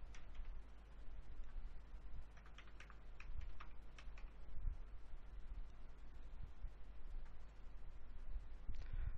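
A computer keyboard is typed on at a steady pace while a username and password are entered, a continuous run of close, crisp key clicks with a low background hum and no speech.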